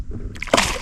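A hooked bass thrashes at the surface of Koster Dam, throwing a sharp, close splash after a quieter lead-in of water movement.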